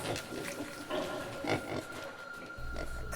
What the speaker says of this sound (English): Then I heard the sound of the pigs again.